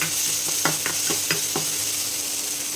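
Onion and tomato pieces fry in a pan with a steady broadband sizzle, broken by a handful of soft knocks as the mixture is stirred; no one speaks.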